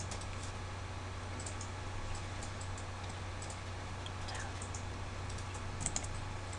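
Computer keyboard keys pressed, including Enter and Shift, a few faint scattered clicks over a low steady room hum.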